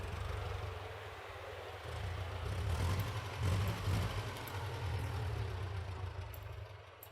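Low, steady engine drone of a motorcycle sound effect mixed in quietly, a continuous idling rumble that swells slightly mid-way and holds to the end with no talking.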